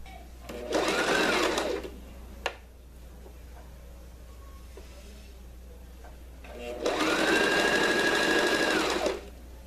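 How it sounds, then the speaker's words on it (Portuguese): A sewing machine runs in two loud, steady bursts of stitching along a folded cotton dish towel, separated by a quieter pause with a faint click. "E vou costurar aqui por cima."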